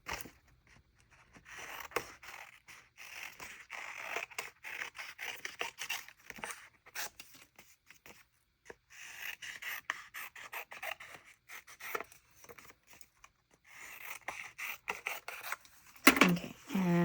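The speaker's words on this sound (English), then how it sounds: "So again, trimming it down since we've cut the pages down." Scissors trimming bullet journal paper pages for a Dutch door spread, soft snips, rustles and rubbing of paper in scattered bursts with brief quiet gaps, close and faint, getting louder near the end.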